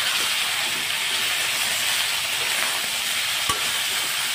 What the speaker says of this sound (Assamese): এতিয়া আলু আৰু মুৰ্গী মাংসখিনি এনেদৰে তেলত অলপ ভাজি ল'ম, অলপ লৰাই দি আছোঁ।